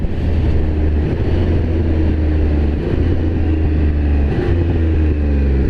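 Triumph Speed Triple 1200RR motorcycle riding with quick shifter gear changes, a loud steady engine drone from on board with brief dips where gears shift up, no talking.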